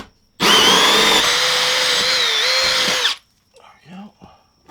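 A power drill bores a hole up through the underside of a shop roof in one loud, sustained whining run of about three seconds with a shifting motor pitch, followed by brief low voices.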